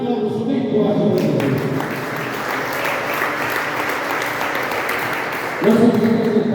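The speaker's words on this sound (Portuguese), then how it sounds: "Aplausos bem fortes." Loud, dense applause from a church congregation during a worship service rolls on steadily for several seconds, framed by brief bursts of music or voice at the start and end.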